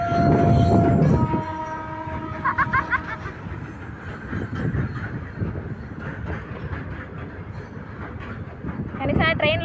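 A train rumbles past with a continuous rolling clatter, and its horn sounds near the start and again at the end, while people talk and call out close by.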